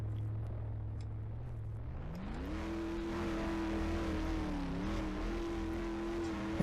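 A player-built tank in the Garry's Mod ACF game drives off: a steady low engine rumble that rises in pitch as it pulls away and holds a droning, slightly wavering tone under continuous track and motor noise.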